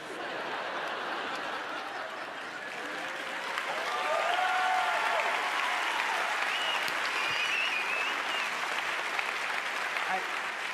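Moderately loud audience applause rises and swells midway, sustained clapping from a crowd mixed with scattered chuckles and laughter, while a voice speaks briefly over it.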